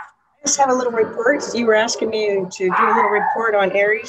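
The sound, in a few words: dog barking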